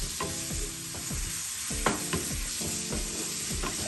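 Ginger-garlic paste frying with onions in a pan for prawn malai curry: a steady close sizzle with repeated rhythmic spatula scrapes throughout and no voices.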